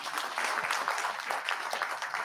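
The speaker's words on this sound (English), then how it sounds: "Please, a round of applause," A conference crowd applauds a minister, many hands clapping in a brisk, fairly loud and continuous round that carries on unbroken with no speech over it.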